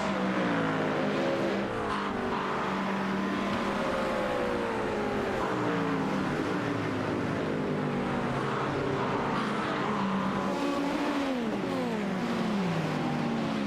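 Several race cars in a Le Mans racing game scream past at wide open throttle, their engine notes layered and rising and falling steadily through gear changes, loud and continuous with no talk.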